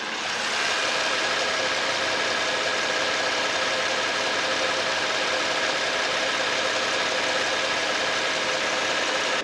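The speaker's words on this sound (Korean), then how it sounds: "이제 밖으로 나왔고 엔진 소리 한번 들어볼 텐데 사람들이 가장 좋아한다는 V6 엔진입니다" V6 engine of a Genesis DH G380 AWD sedan idling steadily in a smooth, even rumble, close and constant for the whole stretch.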